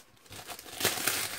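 Paper wrapping on a swap parcel is torn open and crinkled by hand: soft rustling that builds into louder crackling bursts near the middle, close up, with no talking.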